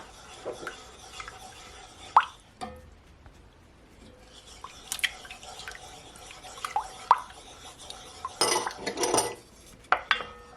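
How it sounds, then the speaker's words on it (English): Egg being mixed into Jamaican spice bun batter in a bowl, light scattered clinks and taps of utensil against bowl with wet drips and plops, mostly quiet between sharper knocks. "I'm gonna add my egg. And you want to mix it as you're adding it"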